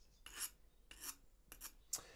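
Garden shear blades sharpened with short passes of a metal sharpener or whetstone, four quick, faint rasping strokes spaced apart, close with no talk.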